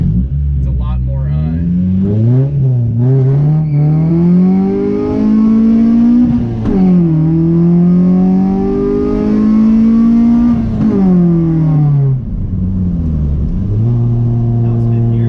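A naturally aspirated car accelerating hard from second up to fifth gear, loud engine revs rising then dropping at each of several upshifts, heard from inside the car with people talking briefly over it.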